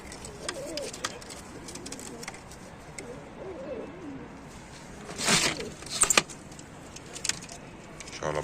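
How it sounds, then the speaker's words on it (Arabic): Pigeons at a pigeon sale in Tanta coo softly and repeatedly close by, with wing flutters and scattered clatter, no talk. "بص الحمام عامل ازاي"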